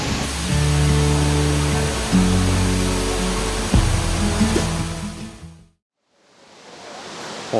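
Large waterfall at Khlong Lan National Park roars as a dense, loud, continuous rush of falling water, with a rumbling low layer underneath; the sound cuts out briefly near the end and then returns.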